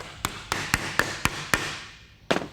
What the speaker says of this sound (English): Start your hammering in the center, then spiral out toward the edge.